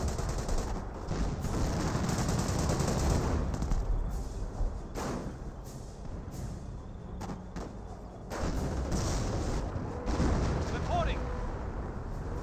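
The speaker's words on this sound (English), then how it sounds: "Got some more Nebel Warfare barrages over here." Nebelwerfer rocket artillery barrages in the Company of Heroes WWII strategy game, a continuous roar of launches and rumbling explosions with sharp bursts of gunfire, while a commentator talks over it.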